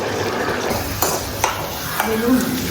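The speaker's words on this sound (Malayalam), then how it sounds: "നമുക്ക് അണ്ടിപ്പരിപ്പും മുന്തിരിയും വറുത്തെടുക്കാം നെയ്യിൽ" Cashews and raisins fry in ghee for a Malabar chicken biriyani, a steady soft sizzle with a few light metallic taps of a spoon against the pan.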